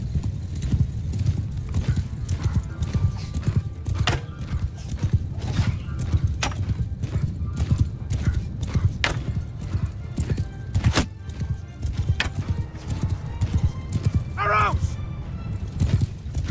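Many horses gallop with steady, dense clip-clop hoofbeats in a battle in the video game Mount & Blade 2: Bannerlord, a loud continuous rumble with an occasional whinny near the end, while someone talks over it.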